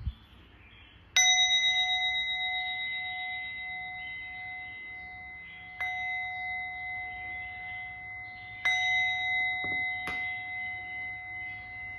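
An old Japanese bronze temple bell rings out with three separate strikes, each a bright metallic clang that blooms into a long, sustained shimmering tone and slowly decays. It sounds close and clear over a quiet background.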